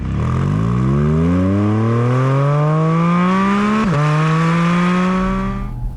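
A Porsche Boxster Spyder RS flat-six revs up loud and close, its tone climbing smoothly through the low-to-mid range, dipping briefly at a gear change, then pulling on before easing off, with no talking.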